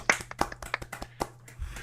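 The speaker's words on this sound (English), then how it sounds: "This is our first Academy Award winning film, so. Round of applause." Podcast hosts clap by hand in a small room, a short burst of a dozen or so sharp, uneven claps, close and fairly quiet, with no talking.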